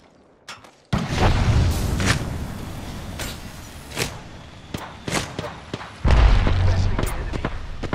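A frag grenade goes off in a sci-fi shooter game, with deep booming blasts near the start and again later, plus scattered sharp gunshots and impacts in between.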